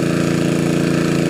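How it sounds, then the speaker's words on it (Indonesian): A borehole water-well drilling rig runs in a housing area in Muara Solo, South Lampung, a loud, close, steady mechanical drone with a rapid rhythmic pulsing rattle and no breaks. "Inilah pengeboran di area perumahan yang berlokasikan di daerah Muara Solo, Kecamatan Palas, Kabupaten Lampung Selatan."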